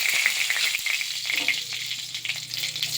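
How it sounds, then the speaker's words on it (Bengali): Cumin seeds, dried red chili and a torn bay leaf sizzle in hot oil in a wok, a bright crackling spatter that is loudest at first and settles into a steadier fizz. "তো কড়াতে আমি একটু জিরে ফোড়ন দেব"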